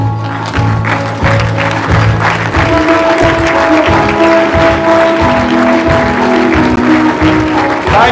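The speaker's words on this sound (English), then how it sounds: "let me all stand here and clap for this great man of God" A standing audience at a university convocation lecture claps for the lecturer, sustained applause over loud live music with a pulsing beat, the clapping dense and continuous for about eight seconds.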